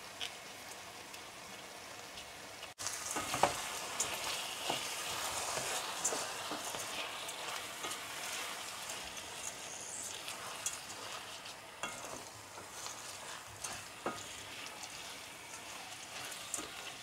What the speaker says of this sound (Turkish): Biraz da pirinçleri kavuracağız çünkü.